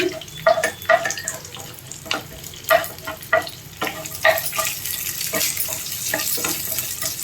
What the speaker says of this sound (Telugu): స్టవ్ మీడియంలో పెట్టి వేయించుకోండి.